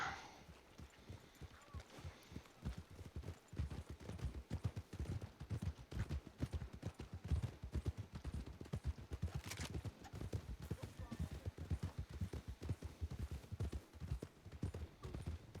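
Horse hooves clip-clop in a steady rhythmic gait while riding in a Western roleplay video game, close and continuous, with a brief whinny partway through and voices talking at times.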